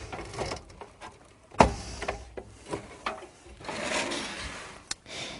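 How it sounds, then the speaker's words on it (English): A 510 watt PC power supply is set into a computer case. Quiet scraping and sliding are broken by a sharp thump near the middle, then more shuffling and a light knock as it is positioned. "And I'm going to set it into the case."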